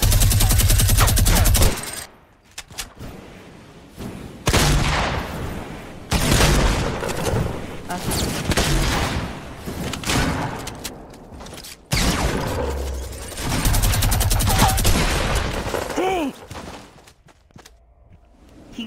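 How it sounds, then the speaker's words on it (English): A minigun fires in a video game, long rapid roaring bursts separated by brief pauses, loud and dense with occasional heavier booms and mechanical whirring between volleys, and no talk over it. "Alright, I got my minigun."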